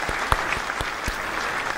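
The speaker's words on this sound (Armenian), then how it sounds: "թույլ տուր ծափահարեմ" An audience applauds at a New Year concert: scattered, moderately faint claps with a few sharper hand strikes over a low crowd murmur.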